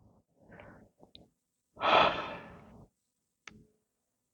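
A person breathing during a yoga mobility exercise: a few soft short breaths, then one long, loud, close exhale lasting about a second, followed by faint small clicks.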